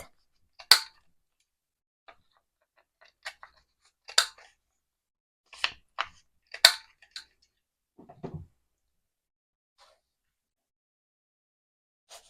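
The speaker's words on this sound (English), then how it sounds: "I always like to just corner round cards sometimes." Corner rounder punch clipping the corners of handmade journaling cards, a series of sharp, quiet snapping clicks spaced irregularly over several seconds, with faint handling rustle between them.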